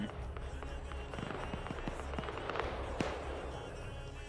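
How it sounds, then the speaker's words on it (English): Scattered sharp gunshots in the video game Black Hawk Down crack at a distance, irregular and fairly faint, with one louder report near the end over low background noise. "Hearing some more gunfire going off up here."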